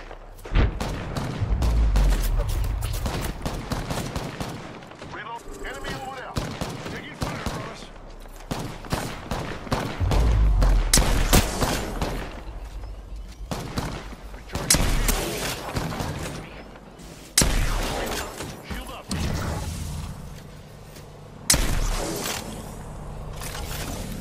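Video game gunfire crackles in rapid bursts and single loud shots, mixed with heavy booms and thuds, some near and some more distant, over a rumbling background.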